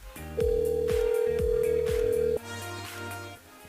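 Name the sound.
telephone call to a radio listener ringing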